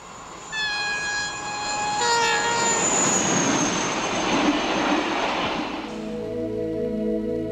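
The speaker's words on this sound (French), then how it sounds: "Avec les RTG, turbotrains de la deuxième génération, la turbine devient reine." A second-generation RTG gas turbine train runs past with a high whining turbine tone over a broad rushing roar that builds and holds, then settles into a steadier hum, with no voices.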